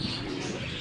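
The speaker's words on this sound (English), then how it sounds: "It sounds like birds." Birds coo and chirp outdoors in Sarigerme, Turkey, a steady busy layer of calls under general background noise with no talking.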